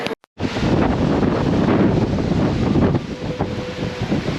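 Heavy wind buffets a GoPro microphone outdoors at a theme-park food festival ahead of a hurricane, a loud, continuous rumbling roar that starts abruptly after a brief dropout and stays strong throughout.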